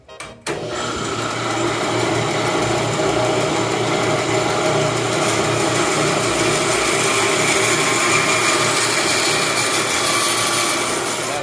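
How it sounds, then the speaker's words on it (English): Bandsaw slicing through a whole coconut shell, starting with a sharp knock, then a loud steady whine and grinding buzz that holds evenly for about eleven seconds. "we're going to make our first slice with the bandsaw"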